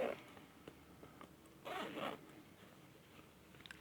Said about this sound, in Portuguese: Eu coloquei um zíper